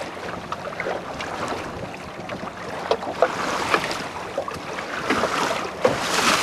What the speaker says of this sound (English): Wind's just kicking back in again.